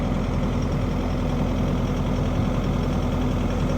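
A Kubota skid steer engine idles steadily nearby, a constant low rumble with a fine mechanical knock running unchanged throughout and no voices.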